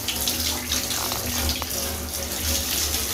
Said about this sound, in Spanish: ahí sigue cayendo rosa el agua